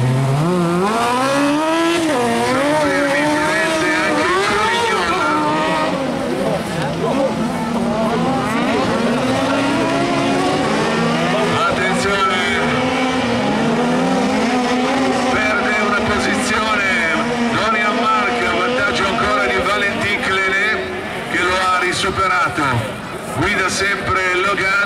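Autocross race cars at the FIA European Autocross Championship in Maggiora roar continuously with rising and falling engine notes as they power around the dirt circuit, loud and close throughout, with a commentator speaking over them.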